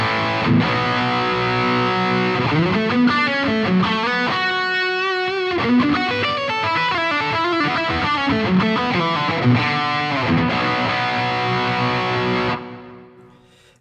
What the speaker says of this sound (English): And let's try the bridge overdriven.